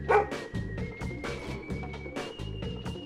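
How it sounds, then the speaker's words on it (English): A dog barks in a steady run of several sharp, evenly spaced woofs over a busy background of music, each bark clear and fairly close. "This is a dog."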